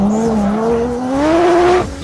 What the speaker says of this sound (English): testing the new PM580 Pikes Peak Hyundai